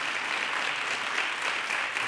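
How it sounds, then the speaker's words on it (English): An audience at a Parsons School of Design panel event on fashion and the planet claps steadily for a panel, a dense, even burst of applause throughout the short clip. "please, a round of applause for the panel"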